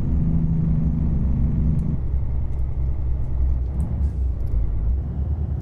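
Diesel truck engine in American Truck Simulator rumbling steadily on a downhill road, a higher drone dropping in pitch partway through as the gear comes down, continuous and close with no talk.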